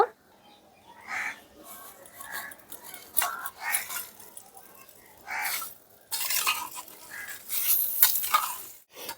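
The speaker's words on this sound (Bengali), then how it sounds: "একটু নাড়াচাড়া করে মিশিয়ে নিচ্ছি" Hing and curry leaves are stirred in a pan with a spoon, giving soft scraping and light sizzling in repeated bursts with brief pauses, close by.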